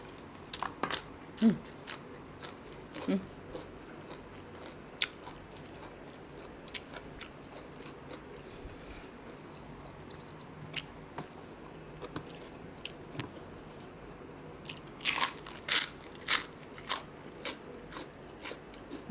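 Crispy pork rinds crunched and chewed at close range, with sharp intermittent bites spread through the clip and a louder cluster of crunches near the end, over a quiet background.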